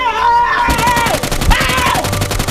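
Rapid automatic gunfire in the battle royale game PUBG, loud close bursts of regular shots that keep going throughout, with a voice speaking over the opening.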